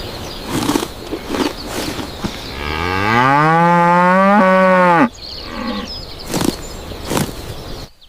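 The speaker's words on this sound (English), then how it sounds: "This is a cow." A cow lets out one long, loud moo that swells in pitch and cuts off abruptly, framed by softer thumps and rustling before and after.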